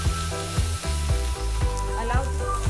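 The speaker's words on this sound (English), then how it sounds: "I will add these 2 onions and allow it to stir fry together" Onions stir-frying with karela (bitter gourd) in a pan, a steady close sizzle with rhythmic scraping strokes from stirring, no voices.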